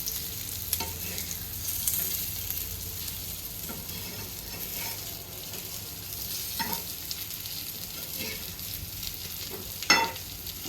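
Village-style fish frying in a pan gives a steady, dense sizzle throughout, with occasional soft scrapes and a sharper clatter near the end.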